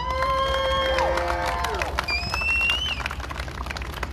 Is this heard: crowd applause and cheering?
yes